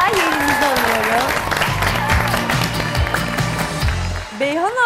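A television cooking-competition studio audience claps as a contestant takes her seat, a busy patter of hands running under loud overlapping talk and laughter throughout.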